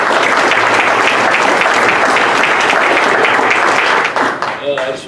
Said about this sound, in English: a big round of applause for Jack Mashburn